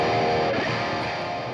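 Electric guitar through the BIAS Amp 2 amp modeler with the master pushed up, giving a thick, saturated sustained tone that slowly fades, with no voice present.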